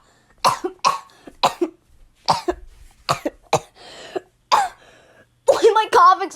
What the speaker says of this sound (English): Why am I coughing so violently now?